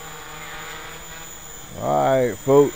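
A Gaui 330x RC helicopter flies in to land at night, its steady, whining rotor hum running throughout, with someone talking over it near the end.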